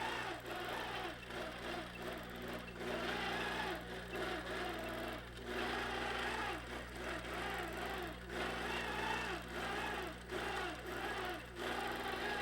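Sewing machine quilting a triangle pattern, a steady quiet mechanical whir with a soft rhythmic stitch pulse that briefly slows and resumes several times, close and without talk.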